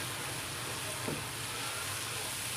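Beef liver (kaleji) frying in a pan with onions, giving a steady, close, broadband sizzle that hisses evenly throughout, with a faint stirring scrape partway through and no voices.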